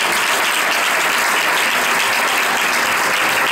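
Loud, dense applause from a church congregation during an evangelical sermon, steady and sustained throughout without letup.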